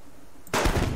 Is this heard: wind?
no